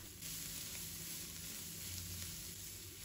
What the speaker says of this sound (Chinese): 再把包菜放入锅中，胡萝卜也加进来，把它炒干水分。